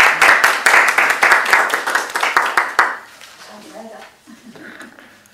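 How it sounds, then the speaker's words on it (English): Brisk, close applause at a local council meeting, a small crowd clapping hard for about three seconds before it tapers off and speech takes over. "big round of applause."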